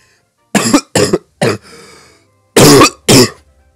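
A phlegmy coughing fit from a person at a microphone: five sharp, loud, close coughs in two bursts, three then two, with a short wheezy breath between them.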